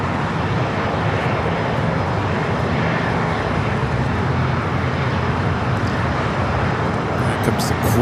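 An airliner in blue livery roars past at LAX, its jet engines a loud, steady broadband rumble that holds throughout, with a voice talking over it.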